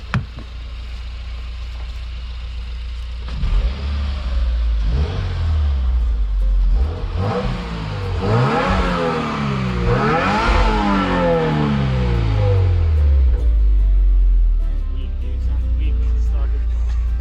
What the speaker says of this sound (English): We'll get a little two-step going right now.